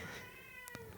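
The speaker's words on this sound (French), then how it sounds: "Désolé pour le chat." A black cat gives a short, faint meow indoors, a brief isolated call near the end against a quiet background.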